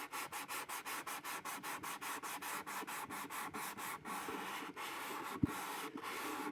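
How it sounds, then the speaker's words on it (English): Steady back-and-forth rasping of 320-grit sandpaper on the wood of an archtop guitar, with quick, even rhythmic strokes close by and no speech. "we'll sand the whole thing with 320"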